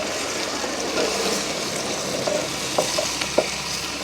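Mango pieces stirred and fried in oil in a village kitchen, a constant close sizzle broken by a few sharp scrapes and taps of the spoon near the end.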